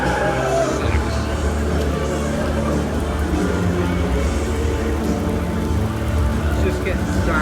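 Rain shower pouring down steadily and getting heavier, a dense continuous wash of falling water with no breaks, close and fairly loud, with faint voices murmuring in the background.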